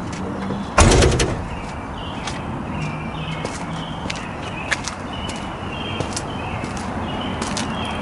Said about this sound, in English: this means that I can now shut this door.